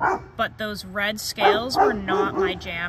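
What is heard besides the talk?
dog barking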